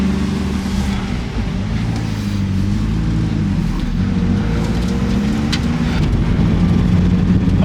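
Car engine with a broken turbo runs steadily from inside the cabin, a constant low drone with slight rises in pitch and no sign of boost, loud and continuous throughout.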